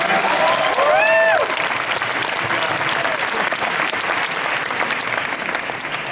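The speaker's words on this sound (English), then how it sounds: "Nice round of applause for Army of Darkness." Audience applause at a fan expo panel with Bruce Campbell, honoring Army of Darkness: a dense, sustained roar of clapping from a large crowd that stays steady throughout, with a brief whistle or cheer near the start.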